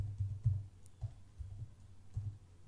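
Someone types on a computer keyboard while writing code: a few soft, scattered key clicks, close and quiet, with short pauses between them.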